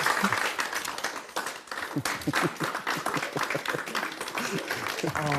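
An audience at a comedy show with guest Baxtiyar Jumataev bursts into dense, steady applause and clapping that lasts throughout, with some crowd noise mixed in.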